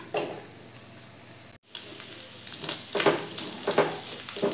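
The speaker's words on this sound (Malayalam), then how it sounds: "ഇനി ഇതൊന്ന് എണ്ണ ഒഴിച്ചിട്ട് ആദ്യം ചെമ്മീൻ വറക്കണം." Prawns frying in oil in a pan, a steady close sizzle with a short cut near the middle, then brighter crackling bursts as the pan is stirred.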